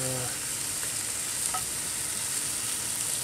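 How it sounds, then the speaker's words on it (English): Steady, bright sizzling of bacon frying in a Dutch oven, a constant hissing crackle that fills the whole short stretch, close and fairly loud. "Should start hearing the sizzle of the bacon."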